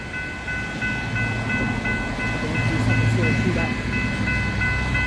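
A train passes the Diamond Street level crossing in Eltham, a steady rumble of rolling wagons under the crossing's continuous ringing bells, fairly close and building slightly toward the middle.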